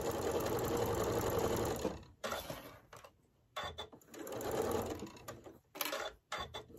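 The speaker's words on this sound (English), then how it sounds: "we're just going to sew these pieces together" A sewing machine stitches quilt pieces together for a Martha Washington star block in a few quick bursts, each a second or two long, with brief quiet gaps between them.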